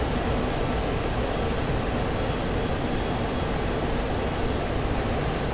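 A Su-25T ground-attack jet in the DCS World flight simulator, played in VR, gives off a steady, dense engine roar with no change in level, heard alone without speech.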